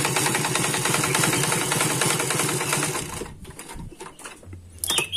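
A black sewing machine stitches through six layers of fabric in a loud, fast mechanical rattle. It runs steadily for about three seconds, then stops and is followed by quieter handling noises.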